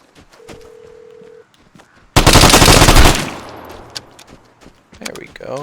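A burst of automatic gunfire from a weapon in the Vigor video game, a dense loud rattle lasting about a second, preceded by a steady tone and quieter clicks, then fading into softer handling noises.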